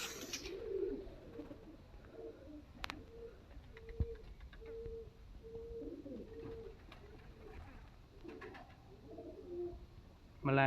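A prized pigeon coos in a repeated series of soft, low, rolling calls, close and fairly quiet, at a breeder's home with faint background noise.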